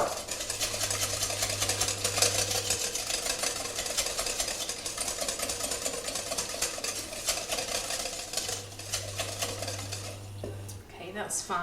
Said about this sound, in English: I'm just going to give this a little bit more of a whisk